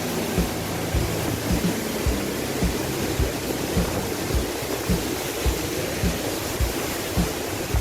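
Khlong Lan waterfall in Thailand roars in a dense, steady wash of rushing water, loud and continuous, with soft low thumps recurring underneath.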